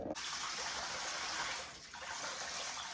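Cold tap water runs steadily into a kitchen sink over a cup of basmati rice being rinsed, a continuous close gushing splash with a brief dip in flow partway through.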